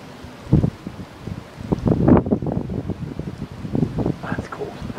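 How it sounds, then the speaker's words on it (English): Strong Hurricane Sandy wind buffets the microphone in loud, irregular gusts and rumbling rushes, close and uneven. "Fucking wind."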